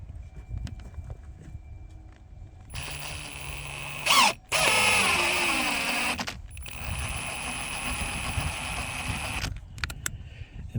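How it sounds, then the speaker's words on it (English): A power drill driving a long threaded anchor into a stainless steel cable railing post, with a steady whirring run that stops briefly, then restarts and continues for several seconds before cutting off. Light handling clatter sounds before and after. "I just struck this up in the drill and I put it into the post."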